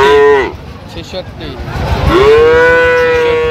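Cattle at a Munshiganj market, Sahiwal and Friesian breeds, low loudly and close by: one moo fades early, then a long, drawn-out moo follows, with crowd chatter and bustle underneath.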